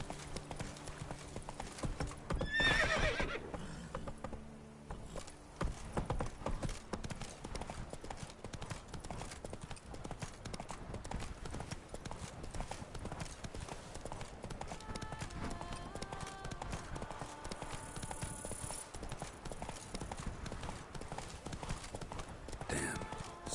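Roach the horse in The Witcher 3 trotting with steady, close clip-clop hooves and a short whinny near the start, set against quiet game ambience, with a voice speaking briefly.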